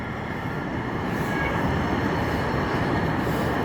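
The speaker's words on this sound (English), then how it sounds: "See, this is a train." A train pulls into Columbia City Station with a steady, loud rumble of wheels and rail noise throughout, no voices.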